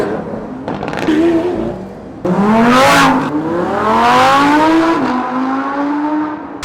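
A Lamborghini Huracan Super Trofeo race car engine revs hard and loud nearby, pitch climbing through repeated upshifts with brief dips between gears, a raw, aggressive roar with no talk over it.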